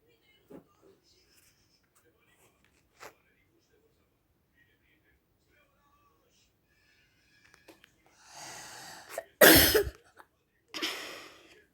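Coughing from a person with a slight cold, a few faint throat sounds at first, then a loud harsh burst of coughs near the end, close and alone without talk.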